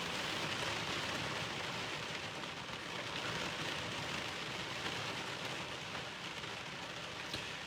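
Steady rain falling on a surface, a dense even hiss that continues without a break.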